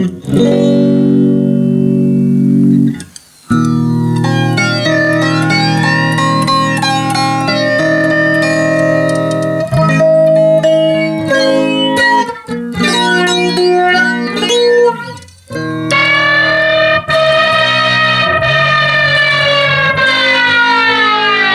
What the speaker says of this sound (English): we're hearing pretty much all flanger there when the distortion's coming through